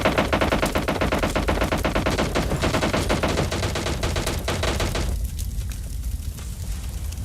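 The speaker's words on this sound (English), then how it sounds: "Taking an absolute hail of gunfire," Dense, relentless gunfire fills a battle royale video game match, rapid overlapping automatic bursts hammering loudly for several seconds before easing slightly into scattered shots near the end.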